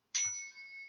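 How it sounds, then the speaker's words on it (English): Meditation chime strikes once, clear and bright, then rings on with a steady sustained tone that slowly fades, with a soft low thump at the strike. "each time we hear the chime"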